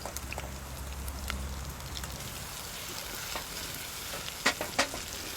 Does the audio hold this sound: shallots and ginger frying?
yes